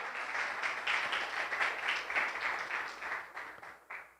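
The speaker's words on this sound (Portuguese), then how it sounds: "aplauda o Senhor Jesus" A church congregation applauds during worship, a steady wash of hand clapping that rises and falls in waves and thins out toward the end.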